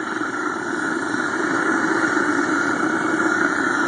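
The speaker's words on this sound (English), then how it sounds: "And I'm going to light it with my propane torch." All-fuel foundry burner just lit with a propane torch, giving a steady, loud broadband roar that holds even and constant throughout with no talking.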